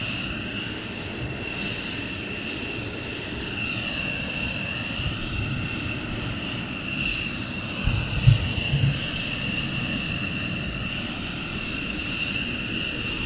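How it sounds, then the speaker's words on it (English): A military jet idles on the ground at RAF Lakenheath, with its air ducts giving a steady high whistle over a continuous engine roar, heard at moderate distance. "the whistling sound is the air ducts"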